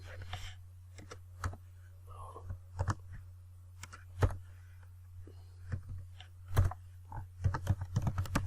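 Java code is typed on a computer keyboard in scattered, uneven keystroke clusters, fairly close against a low steady hum, with no talk.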